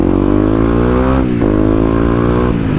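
A Kawasaki KLX250 motorcycle engine drones close and loud while being ridden through a neighborhood. The pitch dips briefly mid-ride, like a gear change or a throttle lift, then climbs again.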